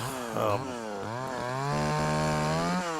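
A ported Craftsman 3.3 chainsaw runs close up, starting with a short burst of revving, dropping back, then climbing into a sustained high-pitched wail with no voices over it.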